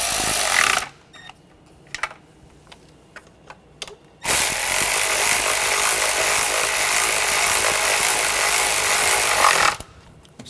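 Intake manifold bolts on a 2009-2013 BMW 328i xDrive 3.0L inline-six being tightened with a power tool, two loud close whirring bursts, a short one and a long sustained run, separated by quiet clicks and taps.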